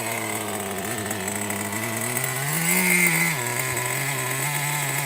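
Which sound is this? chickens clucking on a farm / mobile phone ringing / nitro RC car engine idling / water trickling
nitro RC car engine idling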